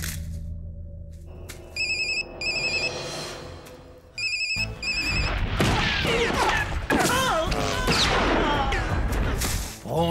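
A telephone rings in a loud action movie scene, a repeated electronic ring in short bursts, then overwhelmed by crashing, gunfire-like impacts and dense chaotic noise.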